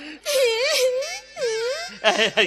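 A voice in a Bengali audio story cries and wails, with long rising and falling sobbing moans broken by short pauses and ending in choked, shaky cries.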